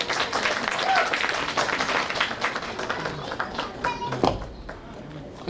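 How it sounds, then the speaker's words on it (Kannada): An audience at a Kannada film teaser launch event applauding for a lyricist, a broad, continuous wash of clapping that fades out near the end, with voices talking over it. "ಫೇಮಸ್ ಲಿರಿಕ್ಸ್ ರೈಟರ್ ಕಿನಾಲ್ ಸರ್, ಒಂದು ಜೋರಾದ ಚಪ್ಪಾಳೆ ಬರಲಿ"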